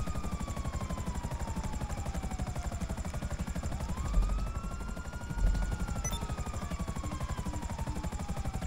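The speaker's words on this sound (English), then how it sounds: "You're gonna have to get in this chopper." Helicopter in the video game GTA V, a steady chopping rotor thump running continuously and close, with sweeping pitch changes from the engine and a couple of brief louder bumps partway through.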